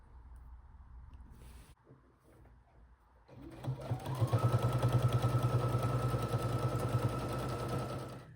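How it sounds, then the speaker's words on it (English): A sewing machine top-stitching a tote bag starts after a quiet pause and a couple of soft handling sounds, then runs in a fast, steady, close whirring stitch rhythm to the end. "put a top stitch on top of this bag"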